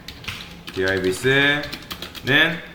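Quick clicking keystrokes of someone typing code on a computer keyboard, heard close under a person's talking voice.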